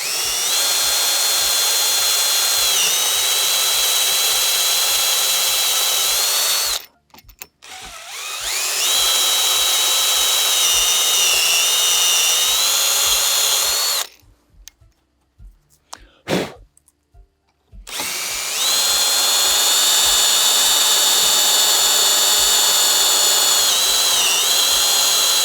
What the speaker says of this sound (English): We're going to take a drill pilot holes for these sheet metal screws, the number 8s, and we're using a 5/32 drill here,